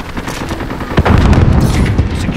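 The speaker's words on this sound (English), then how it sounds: "Enemy precision airstrike" Enemy precision airstrike in Call of Duty: Modern Warfare, a loud burst of heavy explosions and rapid booming impacts that erupts about a second in and rolls on continuously to the end.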